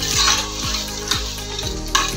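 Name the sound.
washed rice being fried in ghee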